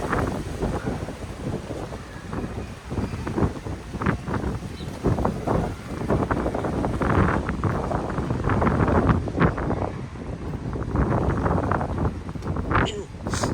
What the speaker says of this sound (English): It's very windy right now here,